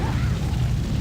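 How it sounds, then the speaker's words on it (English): Weapon reloaded in a shooter video game, a quick burst of mechanical clicks and ratcheting over a steady low rumble of game background noise. "Reloading!"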